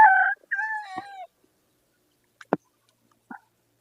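Texas-breed chickens in a yard: a rooster's two-part crow rings out clearly at the start, then silence broken by a couple of short, sharp clucks, near and alone.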